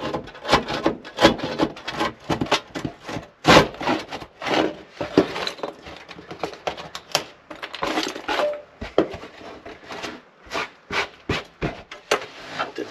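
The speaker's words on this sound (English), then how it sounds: "we'll take our little handsaw and we'll be able to finish down this truss here" A small handsaw cuts through a wooden roof truss during a chimney pipe installation, giving repeated rasping strokes in an uneven rhythm, close and fairly loud, with brief pauses between bursts.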